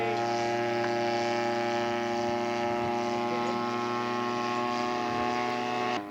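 A scale model de Havilland aircraft drones steadily overhead at an RC scale show, its engine giving a continuous, fairly loud tonal hum with no break throughout.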